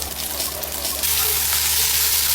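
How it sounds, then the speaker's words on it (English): Beef sizzling in hot oil with garlic in a pan, a close steady frying hiss that swells suddenly louder and brighter about a second in, then holds, with no talking. "garlic, oil, beef, don't overcrowd the pan"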